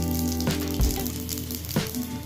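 Panch phoron spices sizzle in hot oil in a pan. The frying hiss is steady and close, broken by a couple of short stirring clatters.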